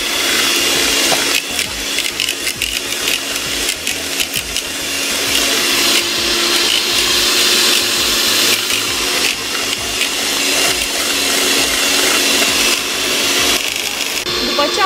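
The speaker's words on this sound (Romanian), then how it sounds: "După ce am bătut bine cu mixerul spuma de gălbenușuri" Steady, loud whirring of an electric mixer whipping egg yolks continuously, with a slight rhythmic wobble as it beats.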